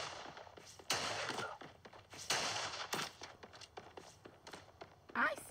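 Gunfire in a video game: several sharp shots and short bursts at irregular intervals, moderately loud, with footsteps and quiet game noise between them.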